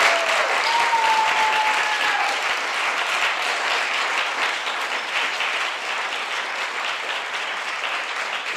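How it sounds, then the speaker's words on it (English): Round of applause for Alicia Garza at the close of a conversation event: an audience claps loudly and steadily for the whole stretch, a dense, even roar with a faint tone briefly audible early on. "If you would please give a round of applause for Alicia Garza."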